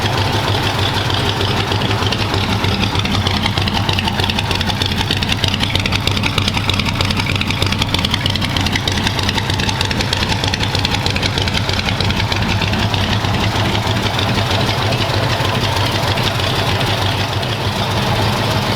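A 1940 stock car engine idles loudly and steadily, a deep, continuous low rumble with a slightly uneven pulse and no talking over it.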